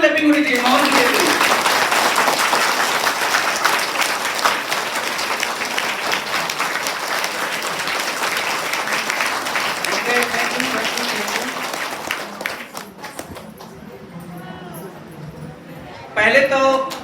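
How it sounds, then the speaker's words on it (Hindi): Loud, sustained applause from a seminar audience at a business training event in Pratapgarh, dense clapping filling the room for about twelve seconds before thinning out, then a brief burst returns at the end. "एक बार जोरदार क्लैपिंग होनी चाहिए माहौल के लिए।"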